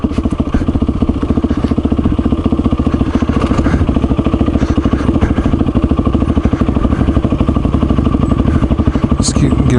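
Kawasaki KLR motorcycle riding off-road, a loud, close engine thumping in a steady rapid pulse throughout, with rattling clatter over it.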